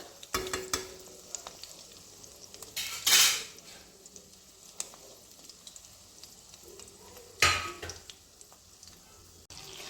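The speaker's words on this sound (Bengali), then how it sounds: "আমি অলরেডি এটা ফ্রাই করার জন্য তেলে দিয়ে দিয়েছি" Food frying in a pan of oil gives a low, steady sizzle, broken by louder clanks and scrapes of utensils and cookware that stand out twice. No one speaks.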